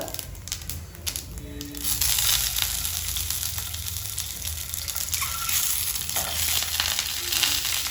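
Cumin seeds sizzle and crackle in hot mustard oil in a pan while egg curry is being cooked, a steady loud frying hiss that swells after the first couple of seconds and carries on without pause.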